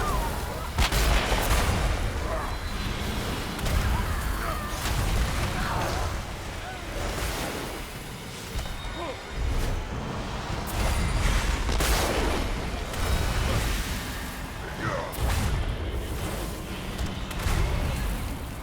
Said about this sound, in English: The cannons will soon reduce the opposition to rubble.